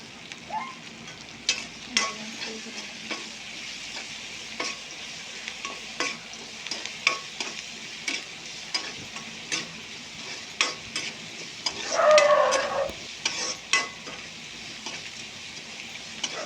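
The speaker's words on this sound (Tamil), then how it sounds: "நல்லா பொன்னிறமாக வர வரைக்கும் வதக்கிக்கலாம்" Okra fries in a pan with a steady close sizzle, punctuated by repeated scraping stirs and a louder burst of frying midway, with no talking.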